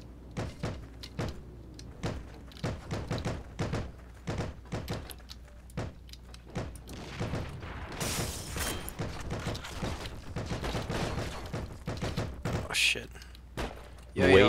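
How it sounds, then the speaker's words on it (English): Gunfire in the video game Heroes & Generals: repeated sharp shots and thuds crack through a match, some in rapid bursts, mixed with heavy mechanical clunks and players talking over it. "Who's shooting at me?"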